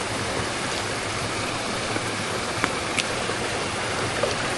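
Water flows steadily through a garden channel, a continuous broadband rush with no pauses and a few faint ticks and splashes on top, with no voices.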